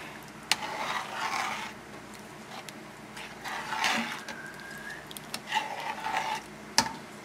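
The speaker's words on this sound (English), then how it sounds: "you can put your rice in. Stir it up." Rice stirred into a pot of jambalaya, heard as soft, continuous scraping and swishing strokes close by, with a few sharper knocks against the pot and no talking.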